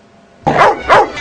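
After a brief quiet moment, a dog lets out two loud, close barks followed by the start of a third, sharp and punchy bursts in quick succession.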